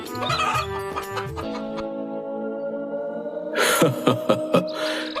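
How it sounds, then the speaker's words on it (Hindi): A rooster clucks and calls several times close by, with a sustained crowing-like note in the middle and sharper clucks toward the end. "ये मुर्गी नहीं, मुर्गा है"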